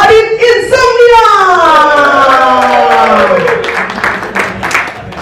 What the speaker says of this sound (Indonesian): paling banyak tepuk tangannya